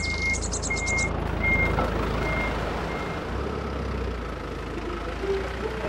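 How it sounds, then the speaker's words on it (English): Noisy snowplow truck rumbling with a low engine drone while its high reversing beeper sounds in a regular series of short pulses, moderately close and continuous. "Not that noisy snowplow again."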